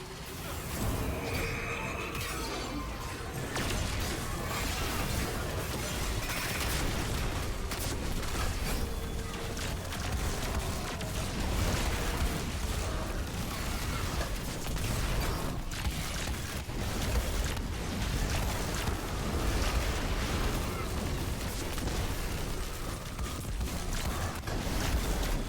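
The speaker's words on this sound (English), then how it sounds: "please enjoy this example of me using the Cloudstrike rotation with the Crux rocket." Cloudstrike sniper and Crux rocket fire in a Destiny-style Titan damage rotation, a dense, continuous barrage of blasts, impacts and mechanical clatter with no pause throughout.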